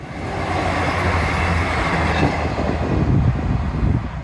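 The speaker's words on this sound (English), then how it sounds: "I heard a happy train." A train rumbles past nearby at Starcross, a steady loud roar of wheels on rails with faint clacking, and no voices.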